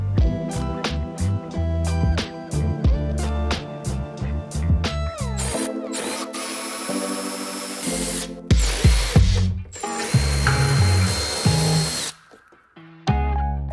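Bolts come off the rear spoiler of a Chevrolet Corvette C8 with a power tool: bursts of whirring and rapid ratcheting clicks, then longer loud whines and clatters, close up and without talk.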